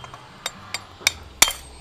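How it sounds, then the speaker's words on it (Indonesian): A hammer taps a spark plug four times at uneven intervals, sharp metallic clinks growing louder, with the final strike the strongest. "Jadi dipukul pakai palu atau apa kayak gini."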